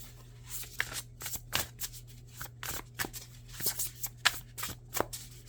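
Tarot cards being shuffled by hand, a run of crisp riffling and slapping bursts repeating every half second or so, close and fairly loud over a steady low hum.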